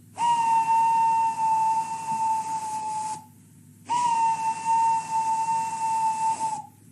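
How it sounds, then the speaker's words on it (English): A steam engine whistle blows in two long, loud, steady blasts separated by a short pause, a clear pitched tone with hissing overtones. "Gordon went on whistling and whistling and whistling."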